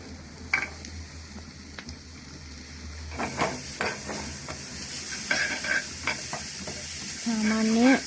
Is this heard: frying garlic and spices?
yes